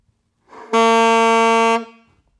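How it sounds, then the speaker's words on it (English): An alto saxophone honks from a bad embouchure: one loud, harsh, sustained blaring note lasting about a second, heard alone after a short breathy onset. "It's going to sound out of control, honking."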